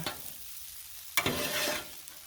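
Beef stir fry sizzles steadily on a Blackstone griddle, with a sharp burst of louder frying and scraping about halfway through as the food is stirred, then a sustained hiss.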